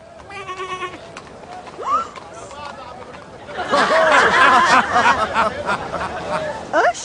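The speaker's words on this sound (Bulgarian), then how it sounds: "Предлагам ти овцата си." Sheep bleat in several wavering calls, some overlapping, mixed with animated voices and chatter.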